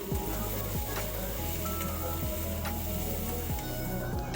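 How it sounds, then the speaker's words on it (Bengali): Onion and potato fry with salt and turmeric, a steady close sizzle running throughout, with a periodic scrape of stirring and a low constant hum beneath. "পেঁয়াজ আর আলুটার মধ্যে আমি একটুখানি নুন দিয়ে দেবো আর হলুদ দিয়ে দেবো নুন হলুদ দিয়ে ভালোভাবে ভেজে নেবো"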